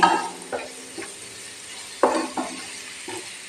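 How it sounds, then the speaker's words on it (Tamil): Ingredients for spinach biryani fry in a pan with a soft sizzle, punctuated by several scraping stirs of a spoon against the metal, close and quiet with no voices. "இந்த மாதிரி ஃப்ரை பண்ணி எடுத்து வச்சுக்கோங்க"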